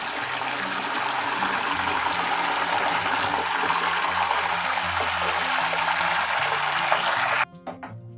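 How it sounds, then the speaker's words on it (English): Salt water hits hot oil frying banana chips, setting off a loud, dense, continuous sizzling hiss that fills the scene for several seconds before cutting off abruptly into quieter crackles. "Now add the salt water mixture to make the chips"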